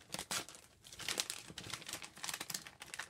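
Paper wrapping on a birthday mail package is ripped open and crumpled by hand up close, a loud, irregular run of crinkling bursts and tearing rustles with brief pauses between them.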